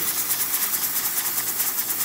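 A Rocket Giotto espresso machine's steam wand blows a strong, steady hiss continuously up close, with a faint pulsing rhythm and no voices.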